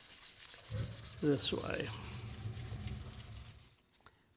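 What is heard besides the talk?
hand sanding a knife handle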